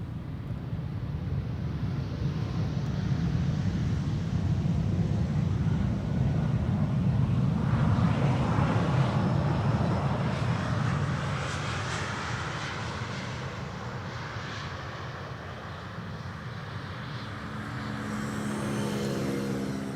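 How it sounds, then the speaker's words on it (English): An Embraer 190 airliner arriving at Amsterdam Schiphol Airport, its steady engine roar holding loud and broad for about twenty seconds and swelling slightly midway, with wind buffeting the microphone. "Up next is an Embraer 190, arriving from Glasgow in Scotland"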